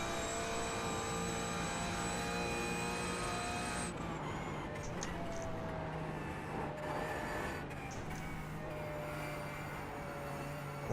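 A car engine held at full throttle in the Green Hell racing game, a steady droning roar with a sustained tonal whine that holds on for the whole stretch, shifting slightly partway through, with no talk over it.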